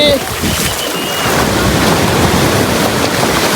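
Sea waves wash in at Calangute Beach, Goa, a close, loud, continuous surf roar with heavy wind buffeting the microphone throughout.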